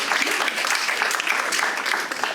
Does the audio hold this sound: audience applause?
yes